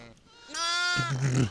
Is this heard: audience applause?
no